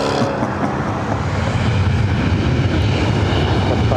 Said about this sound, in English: In the distance, you see an ANA Dreamliner taking off 25 right.